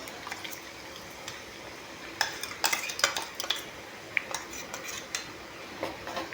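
Spice powder being stirred into a simmering mixture in a pan, with scattered spoon scrapes and clinks against the metal over a soft bubbling background, close and moderately loud, no talking.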